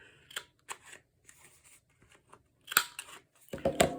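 A handheld corner rounder punch clips through paper in a series of sharp crisp snaps and crunches, several quick cuts spaced apart, close and clear with no talk.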